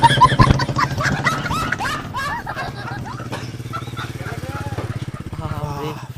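A motorcycle's engine drones low and steadily nearby while excited voices shout and chatter loudly over it.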